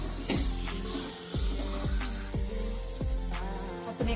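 Chopped capsicum and onion sautéing in a pan, a steady close sizzle with repeated sharp clinks and scrapes of a spoon stirring at roughly half-second intervals.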